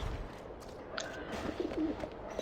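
Pigeons coo softly in a dovecote within the video game Alice: Madness Returns, a few faint, low, throaty calls over quiet ambient background, with no voices.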